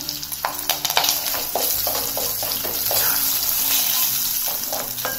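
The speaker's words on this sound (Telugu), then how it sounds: "ఒక 5 పచ్చిమిరపకాయలు వేస్తున్నాను. ఇప్పుడు కొంచెం కరివేపాకు వేస్తున్నాను." Green chillies and curry leaves sizzling and crackling in hot oil for a rice offering, a steady close fry with stirring clatter and a few sharp pops, no talk.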